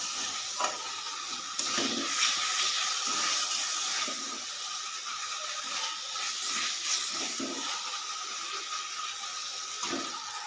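Spice paste for egg curry sizzles and fries in a pan over lowered heat, a steady hiss with intermittent stirring scrapes close by.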